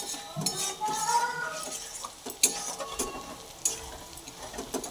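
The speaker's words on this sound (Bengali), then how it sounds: "তেলের মধ্যে পেঁয়াজগুলো লাল লাল করে ভেজে নেব ভালো করে।" Sliced onions fry in hot oil over a high gas flame, sizzling softly as a metal spatula scrapes and clinks against the pan in irregular stirring strokes, close by with no voices.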